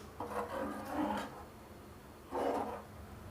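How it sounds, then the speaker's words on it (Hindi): A spoon stirs a paneer korma mixture after full cream milk goes in, giving two bursts of scraping against the pan with a short pause between them, close and moderately loud. "फिर हम डालेंगे फुल क्रीम मिल्क और सबको अच्छे से मिक्स कर लेंगे।"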